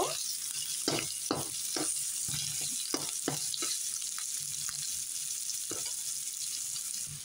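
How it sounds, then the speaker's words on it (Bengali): Onions with cinnamon and cardamom fry in hot oil with a steady crackling hiss, punctuated by repeated rhythmic stirring scrapes close by. "পেঁয়াজটা একটু ভালো করে ভেজে নেব"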